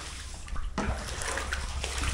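Floodwater is scooped and bailed out inside a flooded house after a typhoon, with sloshing and splashing water that surges suddenly partway through and then keeps swirling nearby.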